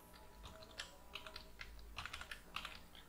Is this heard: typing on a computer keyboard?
yes